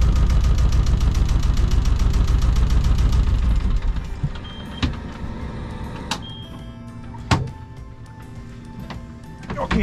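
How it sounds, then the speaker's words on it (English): A Yanmar 1GM single-cylinder marine diesel runs with a dense, rapid knocking chug, loud and close for a few seconds, then cuts off, leaving quieter mechanical ticks and a few sharp clicks. "so I'm going to turn off the engine."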